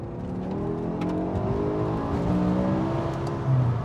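A BMW E60 M5 pulls hard from 3000 rpm on a UK road: a loud, continuous engine note climbing steadily in pitch under the cabin, heard close with no talking.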